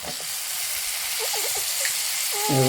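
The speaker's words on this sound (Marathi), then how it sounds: "याच्यामध्ये आता लगेच आपण शेंगा टाकून घेऊया" Drumstick pods hit hot oil in a pan for a traditional Marathi masala vegetable dish and fry with a close, steady hissing sizzle, stirred briefly, with a short voice-like sound near the end.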